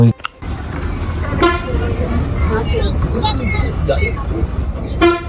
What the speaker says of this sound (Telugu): బస్సులు ఫ్రీ బస్సులు అన్నీ ఇక్కడే ఆగుతున్నాయి